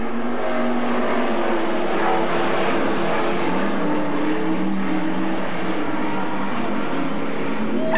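Dirt track race cars roar around the oval at Magic City Speedway in Billings, Montana, a dense, continuous engine drone with pitch swells as cars pass, steady and loud throughout.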